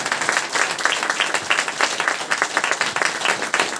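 A church congregation claps together after a Sunday prayer, a dense, steady patter of many hands filling the room for several seconds without any voices.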